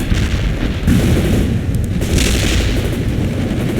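Video game battle with dense gunfire and booming artillery explosions, a continuous loud barrage of overlapping blasts.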